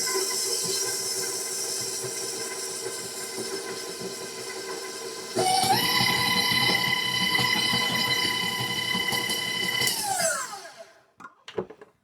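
A stand mixer with a paddle beats raspberry Danish filling, a steady motor whine that jumps to a louder, higher pitch when sped up, then winds down and stops with a few clinks.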